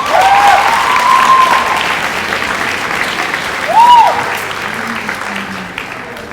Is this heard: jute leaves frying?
no